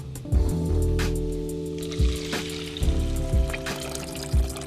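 Water poured into a pot of lentils for an Ethiopian dish, a steady close pour with trickling and splashing, a few louder sloshes and thumps through the stream.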